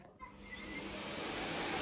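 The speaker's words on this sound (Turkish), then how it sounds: "Annesi yoruluyor diye o süpürge tutuyormuş." A household vacuum cleaner starting up and running, a loud close steady whooshing roar that builds and holds, with no talking.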